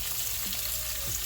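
Fish frying in a frying pan for a Sunday dinner, giving a steady, close sizzle with a few soft bubbling pops and no voices.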